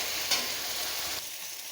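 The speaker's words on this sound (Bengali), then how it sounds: "মশলাটা তেলের মধ্যে একটু ভাজা ভাজা করে নিয়েছি" A spice paste of ground onion and tomato fries in oil for a potato and egg curry, making a continuous close sizzle with a brief stirring knock, then a slightly quieter hiss.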